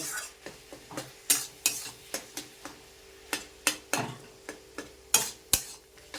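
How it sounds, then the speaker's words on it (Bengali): A utensil presses and scrapes through soft boiled potato in oily ghugni masala in a pan, giving a series of irregular knocks and squelches over a faint sizzle. "আলুটাকে একটু ম্যাশ করে দেবো তাহলে কি ঘুগনিটা একটু গাঢ় গাঢ় হবে"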